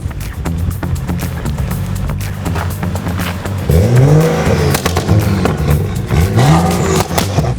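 A BMW 335i with its three-litre turbocharged engine idles with a loud, steady low drone, then revs up twice, the pitch rising and falling in two clear sweeps close by.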